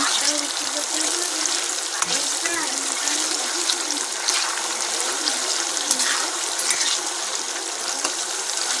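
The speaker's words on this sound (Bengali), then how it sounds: "তারপরে রসুন আর আদা বাটাটা দিয়ে ভালো করে কষিয়ে নেব।" Garlic and ginger paste frying in a pan, giving a steady, dense sizzle with a watery hiss that runs without a break at moderate loudness.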